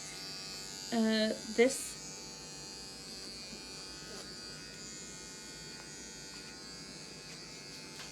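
Electric clippers buzz briefly and loudly on a poodle's feet, cutting out after about a second, followed by a quieter stretch with a person talking near the clipper.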